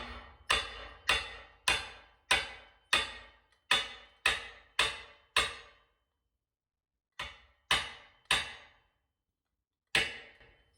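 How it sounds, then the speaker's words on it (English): Hard metallic taps as a 1990s Switchblade mountain bike fork is knocked on a repair stand base, a steady run of about ten knocks, pause, then a few more, each ringing briefly before fading. "I like to spin it upside down and tap it on the base of my repair stand"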